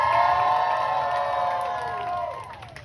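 A crowd of people cheering with holiday enthusiasm, a loud sustained roar of voices and whoops that fades slightly toward the end.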